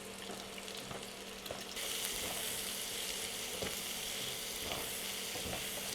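Garlic and onion sautéing in a hot pan, with a steady loud sizzle that swells after a couple of seconds and occasional scrapes of stirring.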